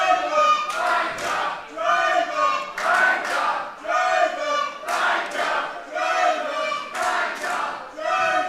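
A wrestling arena crowd at a Jingle Brawls show chants in loud, rhythmic waves, roughly one call each second, sustained and unbroken throughout.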